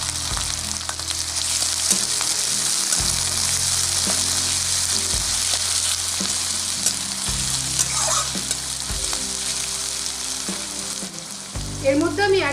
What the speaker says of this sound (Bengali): এবার তার সাথে আমি অ্যাড করে দিচ্ছি 2টো মিডিয়াম সাইজের পেঁয়াজ